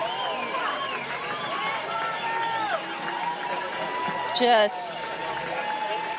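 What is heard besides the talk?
spectators cheering and chanting runner's name, cowbell ringing at ultramarathon finish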